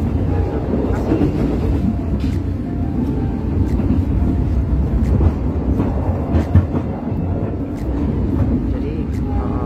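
Inside the KA Mutiara Timur economy-class train running from Surabaya to Banyuwangi, a continuous rumbling ride with rhythmic wheel clicks and rattling carriage noise fills the cabin, with occasional voices nearby.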